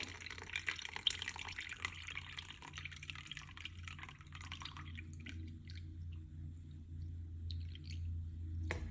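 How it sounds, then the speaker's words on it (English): Leftover morning coffee, about a third of a cup, pours into brownie batter, a soft trickling and dripping stream that runs for several seconds before thinning into a few scattered drips over a low background hum. "Let's see if we can get a good pour on here."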